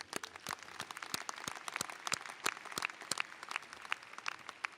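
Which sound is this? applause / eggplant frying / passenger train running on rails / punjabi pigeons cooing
applause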